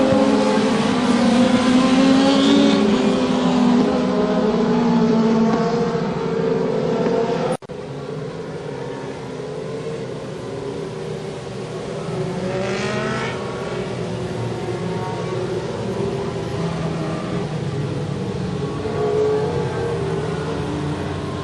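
MOD Lites race cars roar around the Ohsweken Speedway oval, a loud continuous engine drone that swells and fades as the field races closely through the corners, with a brief dropout partway through.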